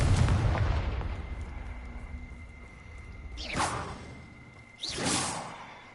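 A Confringo fire spell from Hogwarts Legacy goes off twice, each a loud whooshing blast with a sweeping tail, rising out of a low rumbling background, the second burst fuller and longer than the first.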